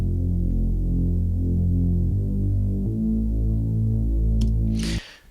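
Stereo bass track from a music production, a deep sustained throbbing bass with a humming, steady low tone that shifts pitch a couple of times, then cuts off near the end.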